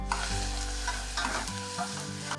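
Garlic and ginger sizzle steadily as they are stirred and sautéed in butter with onion and tomato for a restaurant-style mixed vegetable soup. The frying is close and continuous, with scraping stir sounds and no talking.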